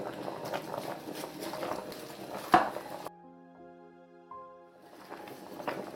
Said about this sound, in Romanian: Stoarcem bine și amestecăm până la fund să nu se